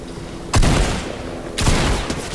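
Two loud bursts of gunfire from the video game Fortnite, each a sharp crack with a brief rumbling tail, about a second apart, heard alone without talk.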